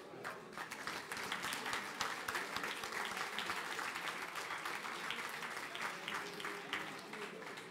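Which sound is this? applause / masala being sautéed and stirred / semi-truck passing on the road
applause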